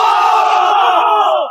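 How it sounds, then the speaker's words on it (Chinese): A large crowd erupts in a loud, sustained roar of cheering and shouting that swells as one dense wall of voices, then cuts off abruptly after about a second and a half. "台下爆发出了山呼海啸般的掌声和欢呼声"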